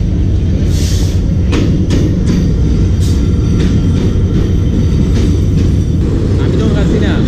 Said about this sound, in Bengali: কিছুক্ষণ অপেক্ষা করার পরে ট্রেন চলে আসলো।